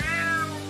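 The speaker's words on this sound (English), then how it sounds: "Damn cat." A cat meows once in a video game trailer, a single clear, drawn-out, close meow with a falling pitch.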